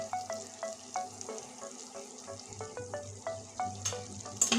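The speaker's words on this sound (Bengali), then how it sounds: "সুন্দর করে কষিয়ে নেব" Taro sizzles in a pan with salt and turmeric, a steady close frying hiss broken by scraping stirs, with faint clinks and a low background hum.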